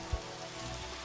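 Steady rain patters in the video game Final Fantasy XV, a continuous even wash of falling drops with one soft low thump early on and no voices.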